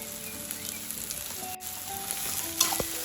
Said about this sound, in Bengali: এবার কিন্তু অনেকক্ষণ সময় ধরে আমাদের এটা খুব ভালো করে ভাজতে হবে।